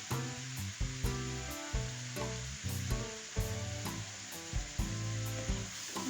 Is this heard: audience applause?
no